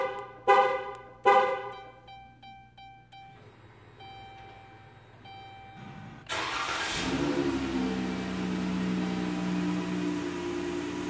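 A car engine is started with a Directed Electronics 4X10 digital remote starter on the factory key fob: two sharp chirps and a run of faint beeps, then the engine cranks, catches and settles into a steady idle.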